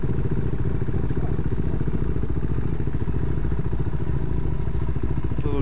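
KTM motorcycle ridden on a road, its engine giving a steady, rough mid-pitched drone with constant wind rush throughout, close and loud with no voices.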